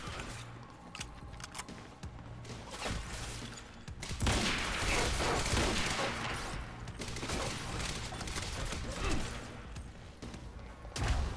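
Gunfire in Quantum Break, a quiet stretch building into sustained bursts of shots and thuds, fairly faint and distant-sounding overall, with a louder hit at the end.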